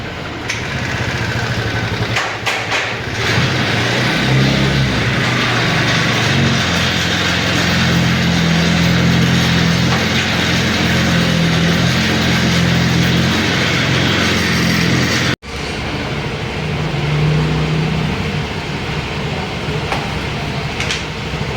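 A TVS Jupiter scooter engine idles after an oil change, a steady dense mechanical drone running nearly continuously, briefly cut for an instant partway through before resuming.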